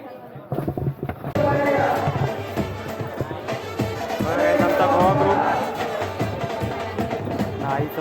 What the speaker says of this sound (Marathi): अफाट गर्दी अफाट